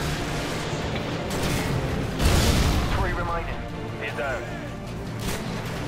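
An RPG rocket launcher fired in a Modern Warfare 2 special ops mission, a heavy booming blast and explosion rumbling through mixed gunfire, with excited players talking over the action.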